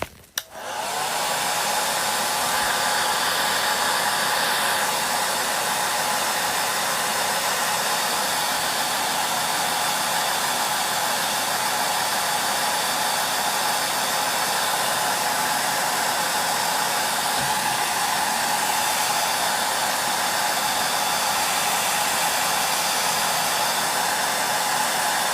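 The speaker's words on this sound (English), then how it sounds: "I'm just going to do a bit of drying, so watch out for the noise." A hair dryer runs steadily and loudly for the whole stretch after a brief start-up, blowing a constant hissing whoosh while it dries part of a model French chateau build.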